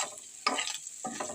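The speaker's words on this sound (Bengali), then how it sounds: "নাড়াচাড়া করে একটু মিশিয়ে নিচ্ছি।" A spoon scrapes and stirs spices into a pot of haleem cooked with tripe, giving a few soft scraping strokes over a faint steady sizzle, close and quiet.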